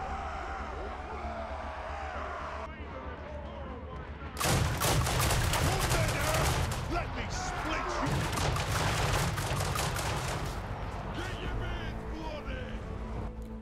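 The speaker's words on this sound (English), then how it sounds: "And the pistol does really good damage" A dwarf unit fires pistols in Total War: Warhammer 3. After a quieter opening, a loud, dense volley of cracking shots starts partway through and keeps going as a rattling barrage.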